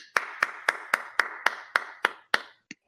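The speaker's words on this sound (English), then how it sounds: "Everyone give themselves a round of applause." Nine sharp hand claps land at a steady, even pace, close and distinct, with a short softer tap trailing after them and no talking.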